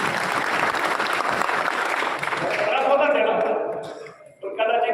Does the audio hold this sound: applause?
yes